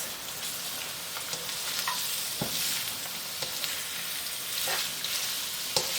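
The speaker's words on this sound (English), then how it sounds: "Now you add your carrots. Give this a mix." Carrots sizzle and get stirred into golden-brown fried onions in a pan. A steady, close frying hiss runs throughout, with occasional scrapes and clinks of the stirring utensil and no talking.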